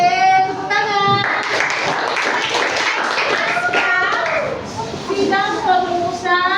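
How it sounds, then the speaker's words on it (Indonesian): In a school classroom after a group presentation on the Pancasila, children clap in a brief scattered round over the middle seconds while young voices chatter loudly around and over the claps. "Tepuk tangan."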